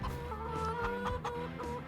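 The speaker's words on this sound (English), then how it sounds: "we're gonna walk on over here and look at our new chickens, our new little chicks" Chickens and young chicks in Farming Simulator 25 cluck steadily and close together, a continuous farmyard chatter with no talk over it.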